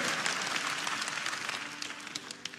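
A church congregation applauding steadily during a Sunday service, dense clapping filling the room at moderate volume throughout.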